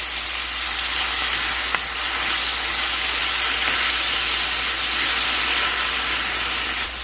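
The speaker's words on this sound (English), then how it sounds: "Now to this pan, we're gonna add our garlic and some of these scallions." Garlic and scallions sizzle in a frying pan, a steady bright hiss that holds evenly from start to finish with no talking over it.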